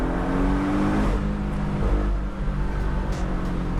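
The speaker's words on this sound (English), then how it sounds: "It's just barks, it pops, there's just so much going on in this car." A Porsche 718 Boxster S with its 2.5-liter flat four-cylinder engine, a loud, deep growl close by that rumbles steadily with rough, popping texture throughout.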